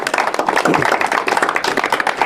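A loud, close audience claps vigorously together in a dense, continuous burst of rapid hand claps that runs the whole time without letting up.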